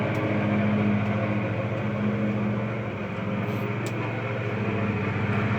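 Steady drone of a lawnmower running outside, loud and continuous with a slight dip midway, no talking.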